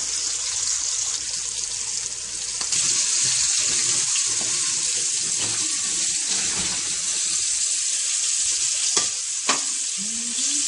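White fish fries in a pan over high heat, a steady close sizzle and crackle running throughout with occasional clicks and scrapes of cooking utensils.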